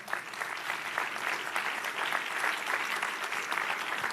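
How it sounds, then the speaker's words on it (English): Steady applause from the audience at a community town hall meeting, dense and continuous for the whole stretch, fairly distant, with no speech over it. "give it a round of applause"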